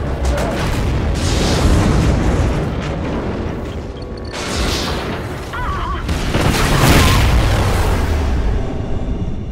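Huge, rolling explosions as a space station blows apart in the Call of Duty: Ghosts campaign, with a sustained roaring blast followed by further booming bursts and debris rumble, loud and dense throughout.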